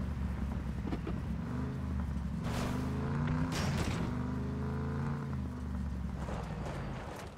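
A vehicle engine drones steadily in the PUBG video game, a low sustained hum with rising surges, heard up close throughout.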